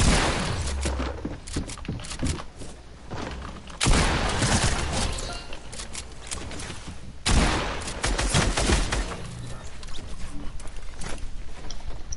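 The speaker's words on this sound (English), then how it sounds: "I swear I heard Ben shoot somewhere." Rapid gunfire bursts in Fortnite, dense rattling volleys with a few sharp loud cracks standing out, continuing through the whole stretch at close range; no talking.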